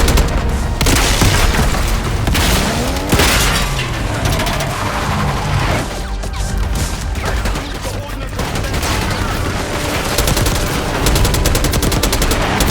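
Heavy sustained gunfire and booming blasts fill a Call of Duty Black Ops 6 battle, continuous loud bursts with cracks layered throughout, with voices calling out over the din.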